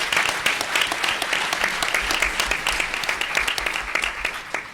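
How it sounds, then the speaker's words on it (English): Steady applause from a conference panel audience fills the room, many hands clapping at moderate volume in a dense, continuous patter. "this sister deserves another round of applause for being able to sustain that."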